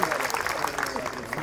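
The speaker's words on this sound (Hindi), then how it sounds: "तालियों से स्वागत" Audience at a civic gathering in Guna, Madhya Pradesh, applauding to welcome a guest onto the stage, a short spell of crowd clapping with voices audible over it.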